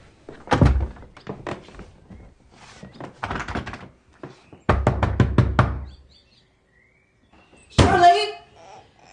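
Urgent, close knocking and pounding on a door comes in several rapid bursts of hard thuds. Between the bursts a person calls out and pleads.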